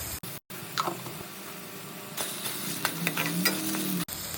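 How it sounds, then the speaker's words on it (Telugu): Ginger garlic paste fries with onions and curry leaves in a pan, giving a steady close sizzle with scraping stir strokes and brief dropouts. "అల్లం వెల్లుల్లి పేస్ట్ బాగా వేగిందండి"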